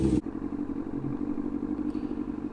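Yamaha R1 sport bike engine, a restored project machine, running at a steady low grumbling idle, close and fairly loud, with a sharp louder burst at the very start before settling into an even drone.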